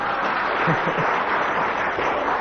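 Studio audience applause on a radio comedy panel show: a steady wash of clapping at moderate level that continues throughout, with a faint voice briefly underneath.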